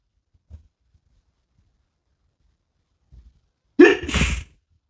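A single loud, close sneeze bursts out after a short sharp inhale, with a few faint small noises earlier and no talk.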